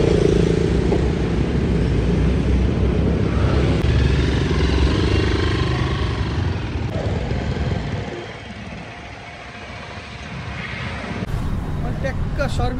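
Engine of a freshly serviced Zontes 350 Adventure motorcycle in Pokhara, a continuous low running rumble that dips briefly before rising again.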